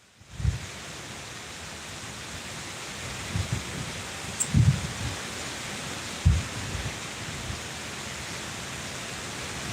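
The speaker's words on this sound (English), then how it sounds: "We got like 20-mile-an-hour winds." Strong wind of about twenty miles an hour blowing outdoors at Clearwater Lake on the Black River, a loud steady broadband roar with several low buffeting gusts, continuous throughout and without talk.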